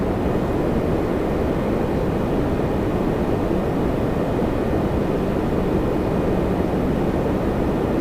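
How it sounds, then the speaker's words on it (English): A parked Antonov 124 that has sat on the ground at Toronto Pearson for over four years, with a steady broadband roar of aircraft noise filling the scene, continuous and fairly loud without any talk. "that was the Antonov 124 that's been on the ground here for over 4 years"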